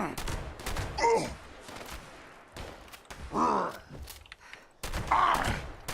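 Gunfire in Fallout 76 as a character walks and shoots at once, a few loud, sharp bursts spaced across several seconds with quieter game noise between them.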